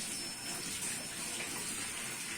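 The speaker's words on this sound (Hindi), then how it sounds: "ठंडा करके तो पानी में भिगो रहा हूँ" Water runs steadily into a container for soaking fruit to cool it, a continuous close gushing wash with no pauses and no talk.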